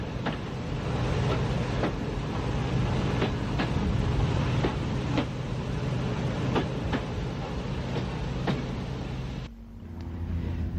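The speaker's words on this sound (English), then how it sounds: "Back at Pier Head, the tram is shuttling to and fro." Pier Head tram on the Isle of Wight shuttling along its track, a loud steady rumble with regular clicking rail joints passing beneath, cutting out abruptly near the end.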